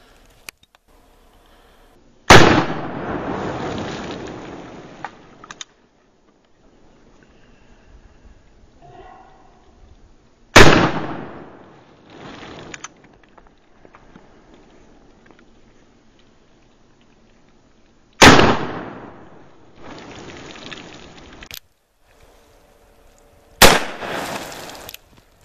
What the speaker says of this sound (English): Nice shooting, man.